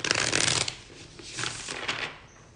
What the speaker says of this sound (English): Why am I shuffling this deck?